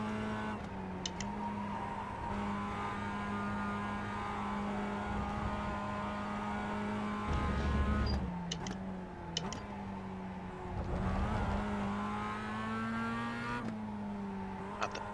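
A Mazda MX-5 race car accelerates hard around a track, its engine droning and rising through the gears from inside the cabin, with short dips at the shifts and a few small ticks and rattles over a long steady run.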